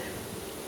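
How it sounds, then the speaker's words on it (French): Honeybees fanning their wings at an open hive make a dense, continuous buzzing drone, close and steady throughout. "Elles sont en train de battre des ailes pour envoyer les hormones"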